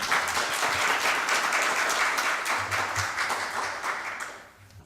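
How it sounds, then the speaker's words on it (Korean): Dense audience applause greets a speaker at a seminar, holding steady for several seconds before fading away at the end. "다시 한번 박수로 맞이해 주시기 바랍니다."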